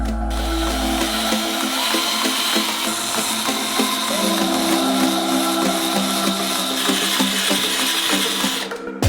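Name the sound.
cordless screwdriver with whisk mixing silicone components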